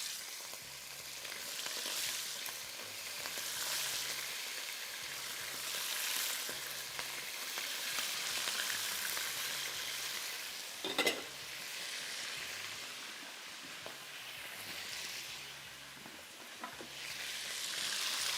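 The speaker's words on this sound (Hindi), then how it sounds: "तेज़ आंच पे फ्राई करेंगे शुरू में।" Barbecue-marinated chicken frying in a karahi over high heat gives a steady, loud sizzle that runs throughout. A sharper clatter or stir breaks in once near the middle, and nobody speaks.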